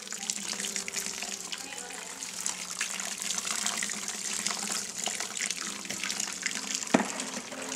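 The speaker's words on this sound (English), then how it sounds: "So we're gonna pour that 2 quarts back in without disturbing the grain bed." Two quarts of wort are poured back over a grain bed during an all-grain brew, a steady, moderately loud splashing trickle of liquid lasting several seconds, with a brief knock near the end.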